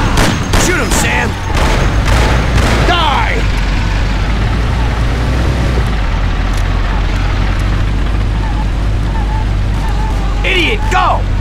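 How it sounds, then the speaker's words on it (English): Gunfire and explosions in the video game Mafia 1 crackle and boom during a car chase, dense loud bursts over a constant engine rumble, with shouting voices mixed in. "Shoot him, Sam"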